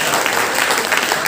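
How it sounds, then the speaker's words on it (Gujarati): Loud, dense applause from an audience at a Brahmin community honours ceremony in Navi Mumbai, steady clapping filling the room and cutting off abruptly at the end. "તો પ્લીઝ એક જોરદાર તાળીઓ સાથે બધી કમિટીને વધાવીએ."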